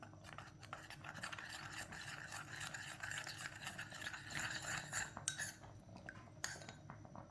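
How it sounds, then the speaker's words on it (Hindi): A spoon stirs custard powder into milk in a small bowl, scraping and clinking softly against the sides in a continuous, quiet rhythm with occasional sharper taps. "कस्टर्ड को अच्छी तरह मिक्स कर लिया मैंने।"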